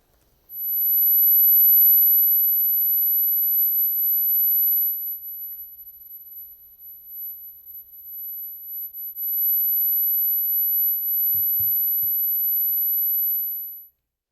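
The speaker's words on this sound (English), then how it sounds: "Again, I'll play a 12 kilohertz tone. Now, listen as I spin the speaker around." A steady high-pitched 12 kHz sine tone plays from a speaker being spun around, holding constant for most of the stretch, dipping quieter midway as the speaker faces away, then returning to full level.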